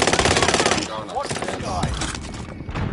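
Rapid automatic gunfire in a Call of Duty Warzone match on the Caldera map, a dense loud burst for the first second, then scattered shots under excited shouting voices.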